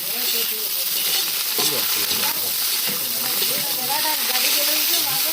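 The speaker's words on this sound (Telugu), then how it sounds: "ఈ కందిరిగా పురుగులు అయితే వేసేసుకున్నాం ఇప్పుడు ఏంటంటే బాగా మిక్స్ చేసుకోవాలి ఈ విధంగా" Wasp larvae frying in a pan while being stirred in a forest setting, with a steady loud sizzle and hiss and scraping stir noises throughout, close by.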